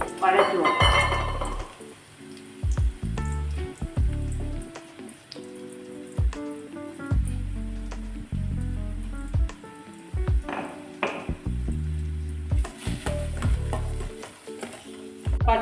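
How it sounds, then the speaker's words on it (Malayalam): Onions sautéing with salt in a pan for squid thoran: a constant frying sizzle broken by frequent scraping and stirring strokes and spatula knocks, close, with a voice talking over it. "സവാളയും ഉപ്പും ആവശ്യത്തിനുള്ള ഉപ്പും ചേർത്ത് നമ്മൾ വഴറ്റുക"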